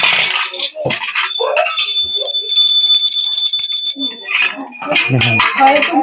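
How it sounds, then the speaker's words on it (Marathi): A small brass puja hand bell rings with a bright, sustained shimmering tone for a few seconds, framed by clinking and brief talking. "घंटा पळी"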